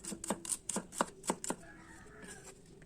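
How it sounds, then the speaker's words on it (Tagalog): Knife chopping an onion on a board, about nine quick, even cuts that then stop, close up, with a faint hum behind. "Maghiwa tayo ng sibuyas."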